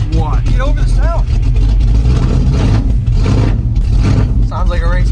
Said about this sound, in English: Sounds like a race car.